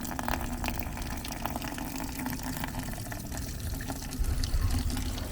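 Water drains from the valve of a shop-built 1,000-gallon crude oil tank into a bucket, a steady splashing, gurgling flow close by that swells slightly toward the end.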